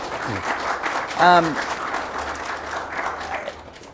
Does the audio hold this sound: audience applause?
yes